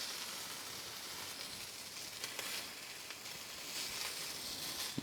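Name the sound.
steak filet searing in a hot pan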